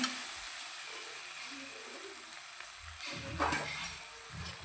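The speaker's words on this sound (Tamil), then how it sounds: "இதை போட்டுட்டு நல்லா வதக்கிக்கலாம்" Ginger garlic paste sautés in a pan with a soft, steady sizzle, joined near the end by a few clinks and scrapes of stirring, close and without talk.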